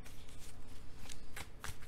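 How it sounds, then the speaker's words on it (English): Tarot cards being shuffled by hand, close riffling and slapping bursts that repeat in quick rhythm for a couple of seconds, with no voice over them. "Let me just go ahead and shuffle again."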